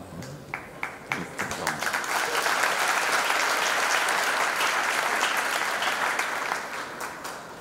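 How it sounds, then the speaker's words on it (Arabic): Sustained applause from an audience at the end of a public lecture, dense clapping that swells and holds steady for several seconds, with a few sharper individual claps at the start. "يعني تصفيق النهاية"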